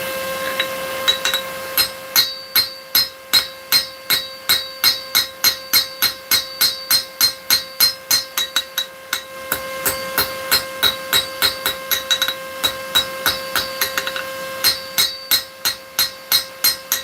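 A blacksmith's hammer pounds hot metal at a coal forge in a long run of sharp, ringing strikes, steady in rhythm with a short pause midway, while a constant tone hums underneath.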